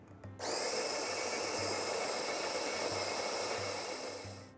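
An OXO conical burr coffee grinder grinding coffee beans, starting abruptly and running as a steady, loud, high whirring buzz for several seconds with no voices.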